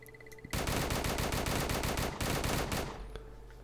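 A rapid-fire weapon in the video game Starbound, with modded races and ships, shoots a loud burst of evenly spaced shots lasting about two and a half seconds, then tails off.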